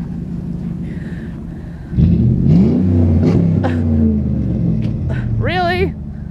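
A Chevrolet Trailblazer engine rumbles nearby in a backyard, then revs up into a louder sustained roar for a few seconds before easing off, with people talking over it.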